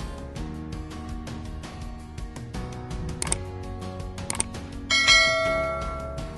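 A bell chime rings out for a subscribe notification button, clear tones ringing over soft background music with a brighter chime near the end, no voices.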